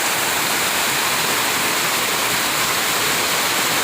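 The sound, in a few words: heavy rain pouring down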